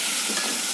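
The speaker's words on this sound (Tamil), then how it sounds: "உப்பு போட்டு வதக்கிக்கலாம்" Tomatoes sautéing with salt in a kadai, a steady close sizzle and frying crackle lasting under a second with no voices.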